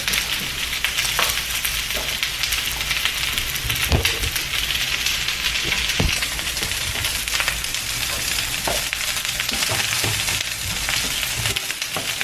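Shrimp and zucchini sizzle steadily in a hot pan, a loud continuous frying hiss with occasional clacks and scrapes as they are stirred, no voices.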